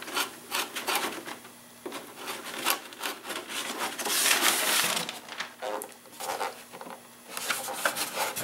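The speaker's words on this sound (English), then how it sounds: "Again, I'm in here cleaning up these burrs." A hand file scrapes burrs off a car body light fitting in repeated, uneven strokes, close and fairly quiet, a rhythmic rasping with brief pauses between passes.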